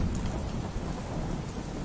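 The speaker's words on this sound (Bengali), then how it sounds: "এই যে যেমন আজকে বৃষ্টি হচ্ছে" Steady, heavy rainfall, a dense and continuous hiss with a low rumble beneath it, heard alone with no voices.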